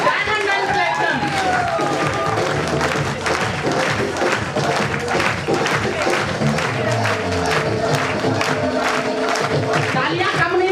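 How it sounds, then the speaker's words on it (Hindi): A seminar crowd claps and cheers for diamond and platinum members, dense, sustained applause filling the hall without a break, with voices mixed in. "तालियां कम नहीं होनी चाहिए।"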